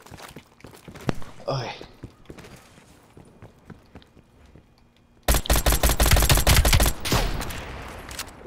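Gunfire in Call of Duty: Black Ops Cold War opens with footsteps and scattered shots, then a sustained, loud burst of rapid automatic fire crackles for about two seconds before tailing off.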